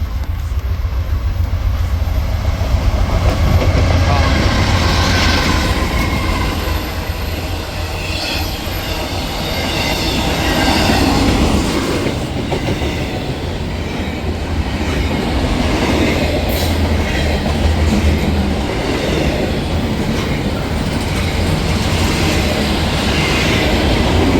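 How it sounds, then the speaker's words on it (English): A train rolls past at very close range, loud and continuous, its railcars rumbling with rhythmic wheel clatter and occasional metallic squeal; the roar swells and eases slightly across the pass with no voices over it. "I've never been this close to the train."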